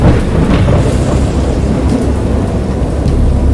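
A heavy, continuous roar of thunder and pouring rain from the video game Dagon, loud and dense throughout, with a low rumbling underneath.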